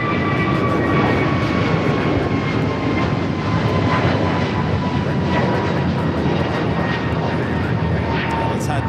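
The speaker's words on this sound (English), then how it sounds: "Korean Air Flight 101, flight coming in from Seoul. LAX 747 800 Continental to arrive here at LAX." Korean Air Boeing 747-8 jet arriving at Los Angeles International Airport, a loud, sustained engine roar with whining tones that holds steady throughout, heard outdoors from nearby with wind buffeting.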